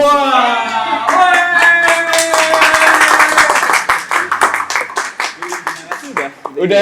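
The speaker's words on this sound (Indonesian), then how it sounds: "Kita beri tepuk tangan untuk Indra Birowo" A studio audience on an Indonesian talk show claps for a guest, a full sustained burst of hands that thins into scattered claps toward the end, with a loud voice speaking over the opening seconds.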